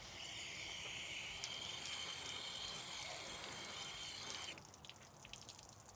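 A garden hose on its shower setting sprays water over a car's painted body in a steady, close hiss, easing and thinning near the end as the spray shifts.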